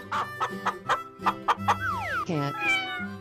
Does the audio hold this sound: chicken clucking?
yes